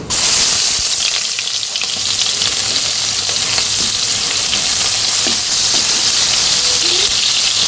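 Chopped onion dropped into hot oil in a village kitchen, hissing in a loud, continuous sizzle that stays strong from start to finish with occasional stirring.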